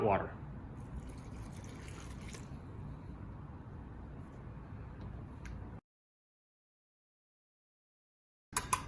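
Hot water pours into a flour mixture with yeast, Italian seasoning and garlic-infused olive oil for Asiago garlic bread dough, a soft, steady liquid rush running close for about six seconds before cutting to silence.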